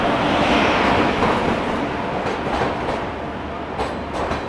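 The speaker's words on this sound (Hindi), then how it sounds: "प्लेटफॉर्म नंबर 2 पे हमारे पीछे पीछे चिपक के आ रही है सुल्तानपुर साबरमती।" Sultanpur–Sabarmati Express running close behind on platform 2, a steady loud rumble of rolling rail cars with faint clickety-clack of wheels that eases slightly over time, with no talking.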